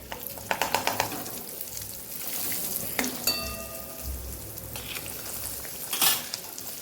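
Garlic chutney and asafoetida hit hot oil in a pan, giving a loud crackling sizzle with sharp pops and spoon clatter over a continuous frying hiss.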